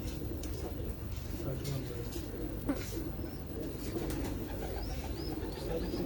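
Pigeons coo softly in a loft of champion racing birds, a steady low murmur from several birds running throughout the clip, with someone talking over it.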